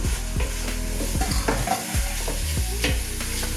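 Pork stir-frying with chili paste sizzles loudly in a pan while a utensil scrapes and stirs in a steady irregular rhythm, close up with no talking.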